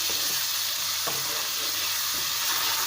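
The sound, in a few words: frying ginger, garlic, green chillies and onions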